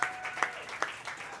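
Brief burst of audience applause at a comedy-style show, scattered claps with a few sharper peaks, moderately quiet and short.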